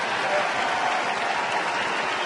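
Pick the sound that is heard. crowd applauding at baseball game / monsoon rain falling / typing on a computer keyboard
crowd applauding at baseball game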